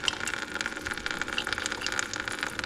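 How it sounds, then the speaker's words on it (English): Water gushes out of the oil drain of a Formula Vee engine that had taken in floodwater, a close, steady splashing stream with bubbly, hissing texture running continuously without talk. "it is literally a fountain of water."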